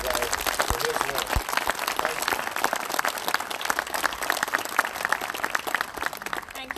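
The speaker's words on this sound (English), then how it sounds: "let's give Dr. Hardison a round of applause today for his work" Dense audience applause at a state park visitor center dedication, many hands clapping continuously at a steady level throughout, crowd noise mixed in.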